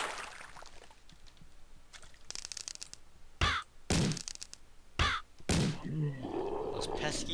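Birds caw in the video game Grotto King, several harsh calls bursting out in quick succession with a dull thunk among them, under a murmur of talk.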